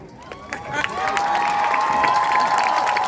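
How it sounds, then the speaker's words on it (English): A large crowd at a high school graduation ceremony applauding parents and guardians, building into loud sustained clapping with cheering, whoops and shouted voices rising over it. "Class of 2019, give them applause."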